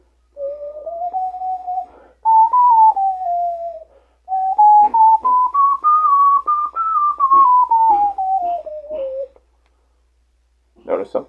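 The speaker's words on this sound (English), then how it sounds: "if you do that volume on the Ohuhu ocarina" Ohuhu ocarina played with low breath pressure, sounding a soft melodic line of connected notes that rise and fall in pitch, with slightly breathy, raspy attacks, close and steady with brief pauses.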